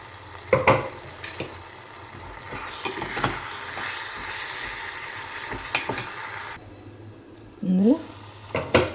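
Drumstick pieces and mango curry simmer in oil with a steady broadband sizzle and occasional stirring scrapes; the hiss drops away late on as a voice speaks briefly.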